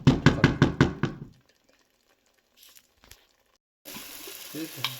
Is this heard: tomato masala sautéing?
yes